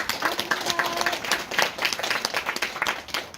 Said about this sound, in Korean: 감사의 이런 표현으로 좀 박수 한 번 더 부탁드리겠습니다